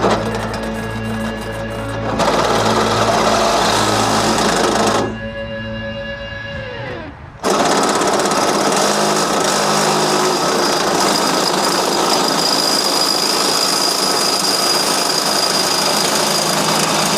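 A miter saw without a metal blade cuts metal for a large gate, a loud, harsh, sustained whine and grind up close that drops out briefly before resuming and running steadily to the end.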